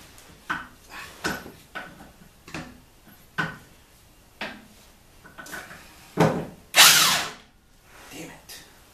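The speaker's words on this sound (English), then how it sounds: "Little Chicago impact driver, or impact wrench, I mean." A small Chicago impact wrench works on a bolt on a Bobcat commercial mower, firing in short bursts of rattling hammering separated by pauses, with metallic clanks and one louder, longer burst near the end.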